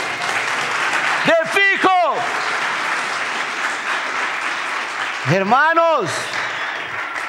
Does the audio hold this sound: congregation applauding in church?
yes